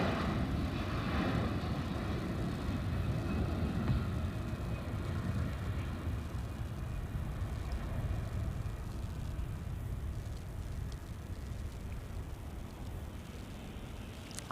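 A CRJ regional jet departs for Tucson with a sustained engine rumble and a faint high whine that stays even and then eases slightly as it moves away, with no talk.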